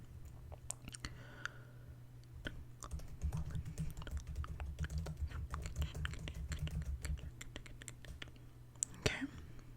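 Steady keyboard typing with rapid irregular key clicks, close and fairly soft, running throughout over a low background hum, with faint whispering near the end.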